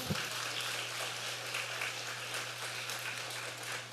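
Congregation applause during a Wednesday church service, a dense, steady clatter of many hands carrying on evenly throughout, fairly soft and diffuse as if heard from a distance, with a constant low hum underneath.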